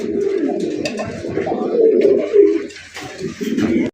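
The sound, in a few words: fancy pigeons cooing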